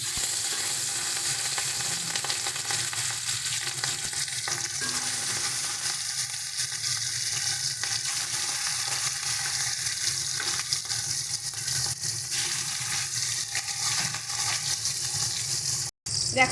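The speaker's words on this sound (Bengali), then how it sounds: "এবার আমরা মাছগুলোকে ভেজে নেব।" Pieces of rui fish fry in hot mustard oil in a wok, a dense, loud, continuous sizzle and crackle holding steady and close for the whole stretch.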